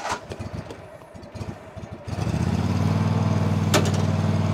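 A 2012 Snapper Pro S200XT zero-turn mower with a 61-inch deck and 27HP Kohler engine starts up after a couple of seconds of faint rumbling, then settles into a loud, steady, throbbing idle close by.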